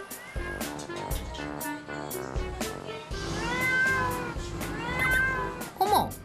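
A mother cat meows repeatedly on a rooftop, clear and fairly close, with drawn-out calls that rise and fall, over a musical background with a voice talking.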